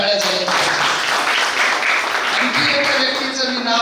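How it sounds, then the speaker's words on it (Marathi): An audience at a junior college lab inauguration claps loudly and steadily, a dense wash of applause filling the hall while a voice speaks over it. "त्यांच्यासाठी एकदा जोरदार टाळ्या झाल्या."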